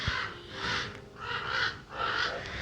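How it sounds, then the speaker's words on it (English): Crows cawing outdoors, three drawn-out harsh calls in a row, moderately loud and fairly close over a low background. "You hear those birds?"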